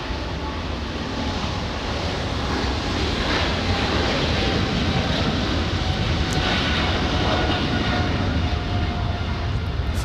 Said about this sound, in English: Full takeoff thrusts for that 777, and now doing a pretty aggressive but pretty normal for the Air France aggressive takeoff